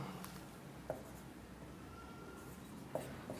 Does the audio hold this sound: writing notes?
yes